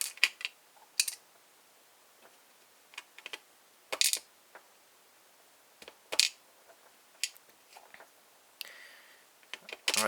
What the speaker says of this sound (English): So I'm just going to drop these pins out.